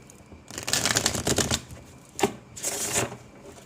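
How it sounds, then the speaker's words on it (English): Wizard's Tarot cards riffle-shuffled in two bursts, a longer flurry of crisp flicking followed by a short pause, a single snap and a second quick riffle, close and clear with no talking. "I've already shuffled these guys, so I'll just shuffle it once again."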